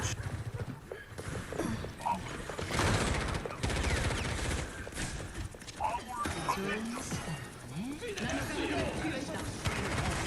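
Overwatch 2 gameplay with Widowmaker and Soldier: 76 gunfire, rapid bursts and sharp shots over game effects, while players talk throughout.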